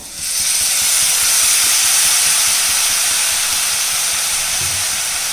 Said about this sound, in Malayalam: ഇനി നമുക്കിതിലേക്ക് കുറച്ച് സോയ സോസ് ഒഴിച്ചു കൊടുക്കാം.